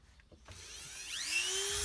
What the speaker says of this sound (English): cutting the ends of screws off still.